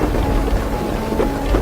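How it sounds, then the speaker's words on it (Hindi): Heavy rain pours as a thick, continuous roar of drops and rumbling thunder, loud and close throughout, with no voices. "तभी बहुत तेज बारिश शुरू हो जाती है।"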